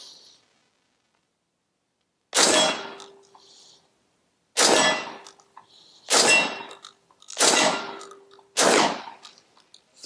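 Five loud 12 gauge shotgun blasts from a Tokarev TT-12 striking a swinging steel target, each a sharp bang with a ringing clang, spaced about two seconds apart after a quiet start.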